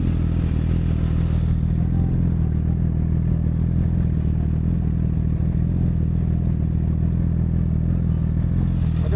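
Yamaha R1 and R6 sport motorcycles riding on the road, a steady loud engine drone with wind rumble continuing throughout, no voices.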